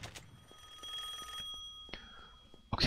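A telephone rings in the video game Mob Enforcer, set in a hotel: a steady electronic ring with sharp tonal bursts that repeats over a couple of seconds, fairly clear, ending with a loud clattering thump.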